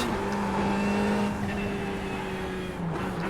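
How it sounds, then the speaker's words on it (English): Ferrari GT3 engine in iRacing at Knockhill, held against the rev limiter, giving a loud steady high-pitched drone with stacked harmonics that wavers slightly near the end, close and continuous with no talk. "So we're hitting the rev limiter, but we're not in any danger of going too fast."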